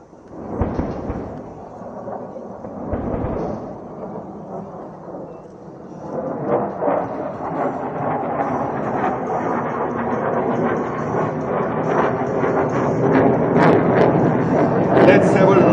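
Bombs dropped by Su-30 aircraft exploding on a target camp during an air force firepower exercise, with deep rolling thunder-like rumbles that build steadily louder over time while a voice talks over them.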